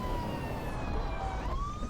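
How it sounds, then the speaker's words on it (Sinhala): Police car siren in the Pay Back 2 video game, a steady wailing electronic tone that sweeps and rises toward the end, fairly quiet over a low engine rumble, with no voices. "මේ පොලිස් කාර් එක අපිට සයිරන් එක දාගන්න පුළුවන් සයිරන් එක දාගත්තා"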